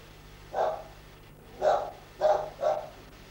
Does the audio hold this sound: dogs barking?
yes